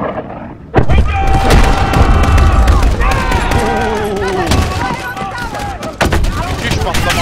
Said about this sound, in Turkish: Müthiş patlamalar.